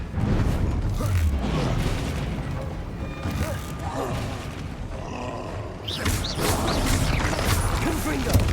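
Blasting-spell explosions boom and crash in a Hogwarts Legacy duel, loud and repeated through dense game combat noise with roaring effects, while a voice shouts spell names over the action.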